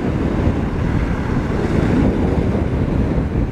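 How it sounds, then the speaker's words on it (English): Steady roar of an onshore wind and rough surf on the Arctic Ocean shore, a loud continuous wash with heavy wind buffeting the microphone and no distinct breaks. "Today we have an onshore breeze."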